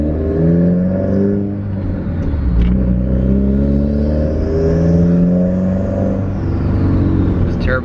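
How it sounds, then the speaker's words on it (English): Subaru WRX turbo engine accelerating up through the revs, heard from inside the car as a loud, steady rising engine tone with layered harmonics and brief whooshing bursts, no talking over it. "Those turbo noises though,"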